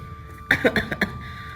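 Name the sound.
elderly woman coughing in the inner room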